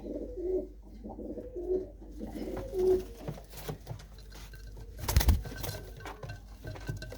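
Pigeons in a loft coo in a repeated rhythmic pattern, three clear close calls in the first few seconds, followed by softer bird sounds, a sharp metallic clatter around the middle, and lighter rustling.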